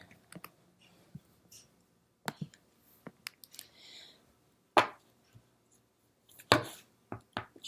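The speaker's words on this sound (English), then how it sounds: "Shuffle it up a little bit more." A Fairies Oracle card deck is shuffled by hand, giving quiet, irregular clicks and soft riffling bursts with pauses between them.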